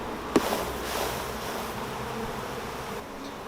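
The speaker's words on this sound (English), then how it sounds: "There's a lot of bees on this frame" Dense, steady buzzing of many honeybees shaken off a hive frame onto the ground near the entrance, a loud continuous swarm drone with one sharp knock early on.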